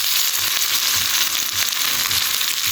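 Red onion frying in a pan as part of a home-cooked supper with mixed greens, a loud, steady close sizzle with faint crackles and soft stirring scrapes running throughout.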